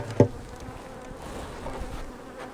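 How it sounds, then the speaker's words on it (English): Honey bees buzz in a steady, low drone around honey supers being pulled in the fall, with a brief sharp knock near the start and the hum continuing evenly at close range. "There's quite a few bees up here though."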